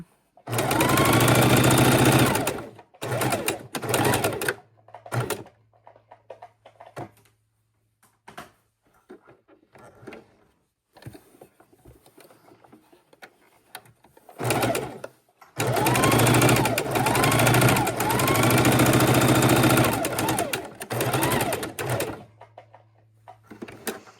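A sewing machine stitches a quarter-inch seam around fabric for a keychain wallet, loud close bursts of rapid whirring separated by quiet pauses as the work is pivoted.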